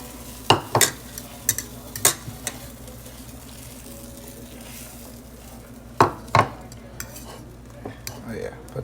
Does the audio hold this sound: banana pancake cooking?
yes